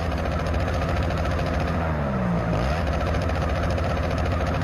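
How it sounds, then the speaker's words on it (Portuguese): A Yamaha MT-07 motorcycle with its original exhaust revs in a Brazilian motorcycle video game, a steady, loud engine drone whose pitch dips and climbs once midway. "Ronco realista, família."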